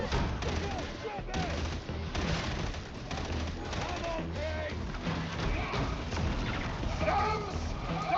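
Short bursts of gunfire in the Darktide video game, dense rapid shots repeating through a busy, loud battle mix with voices talking over it.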